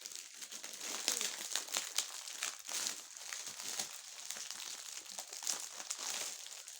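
A parcel wrapped in tape is torn open by hand, producing continuous close crinkling and crumpling of plastic packaging with sharp tearing bursts.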